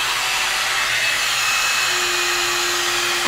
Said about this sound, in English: I'm just gonna slowly start like blowing it out to make sure we get the hair dry and nice and smooth